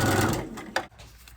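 A sewing machine runs briefly as it stitches a straight seam in quilt fabric, a loud, close mechanical whir that slows and stops after about a second, with no voices.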